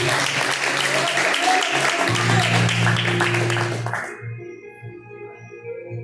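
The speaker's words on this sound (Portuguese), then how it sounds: "e as palmas finais para Jesus." A church congregation claps loudly for about four seconds, then the applause stops abruptly and sustained organ or keyboard tones continue alone.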